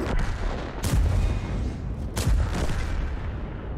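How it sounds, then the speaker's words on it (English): Gunshots in a video game, two sharp loud bursts about a second apart over a rumbling background of game noise. "Nice, you shot your friend there."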